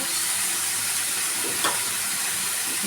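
Okra, potato and mixed vegetables fry in a pan with a dense, steady hiss and sizzle, loud and close, with one brief stirring scrape partway through.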